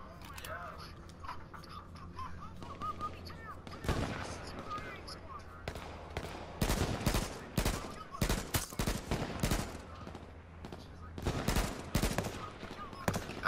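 Gunfire in the H1Z1 battle royale game crackles in sharp bursts, with scattered single shots giving way to dense rapid volleys, loud and close, while players talk over the action.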